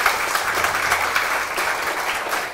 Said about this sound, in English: So have a big round of applause for Dr.